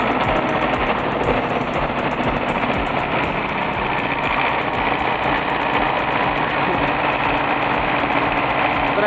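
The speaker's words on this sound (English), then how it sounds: "This guy's drifting a tractor like he's in Fast and Furious" A tractor engine roars continuously and loudly as the machine drifts, a rough, rattling drone that holds steady throughout.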